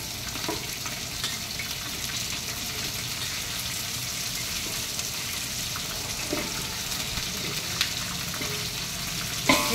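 Mixed vegetables for khichdi sauté in a pan, giving a steady, close frying sizzle throughout with a few soft clinks of stirring and no voices.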